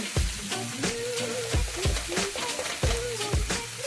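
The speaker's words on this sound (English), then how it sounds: "Just saute this around." Vegetables sautéing in a pan for vegan sweet potato and black bean enchiladas, a steady close sizzle broken by repeated scraping and stirring knocks, with music playing underneath.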